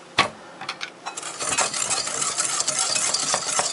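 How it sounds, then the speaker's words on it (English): Salt being stirred into a banana cream pie mixture, a close, steady scraping and swishing of a utensil against a bowl, with a sharp clink at the start and no talking. "Just going to mix this up a little bit, and I'm going to add 1/4 teaspoon of salt to that"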